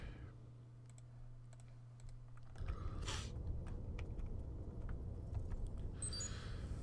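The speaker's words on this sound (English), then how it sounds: "typing is weird." Keyboard typing in the game Star Trek Online, quick scattered clicks and taps over a low hum that gets busier partway through, with a few sharper clatters.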